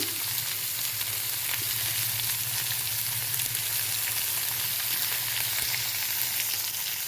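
Sliced onions and green chillies sauté with salt in a hot pan, giving a steady, loud, close sizzle that runs unbroken throughout with no talk.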